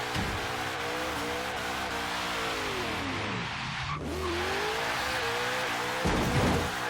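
A supercharged HSV GTS in the Forza Horizon 3 racing game revs hard and spins its tires, a sustained loud engine roar with shifting pitch and tire squeal that keeps going without a break.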